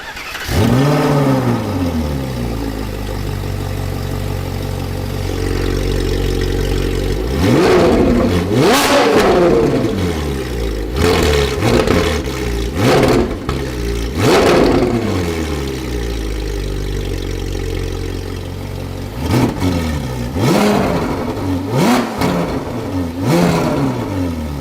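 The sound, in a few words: Ferrari 458 Spider with Fi exhaust starting up and revving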